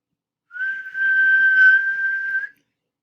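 A person whistles a single sustained clear note lasting about two seconds, close and alone in an otherwise silent room, with a slight dip near the start.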